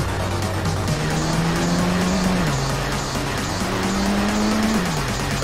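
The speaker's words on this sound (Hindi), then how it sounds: "अपनी फर्स्ट गाड़ी को उठाते हैं और यहाँ से फटाफट निकलते हैं" In a video game, a car engine drones loudly and continuously, its pitch stepping up and down through gear changes as it speeds away, with tire noise blended in.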